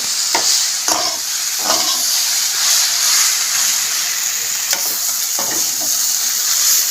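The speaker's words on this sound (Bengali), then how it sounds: "শাপলা সবসময় জোরে জাল দিয়ে ভাজতে হবে" Water lily stems (shapla) frying hard over high heat, a loud continuous sizzle and steam hiss with a few quick stirring scrapes near the start and later, nobody speaking.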